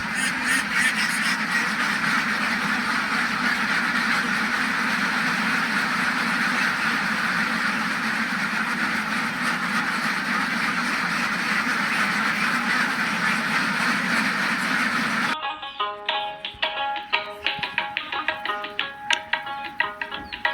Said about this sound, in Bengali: শেডের হাঁসগুলোকে গোসলের জন্য পাশের জলাশয়ে ছেড়ে দেওয়া হয়েছে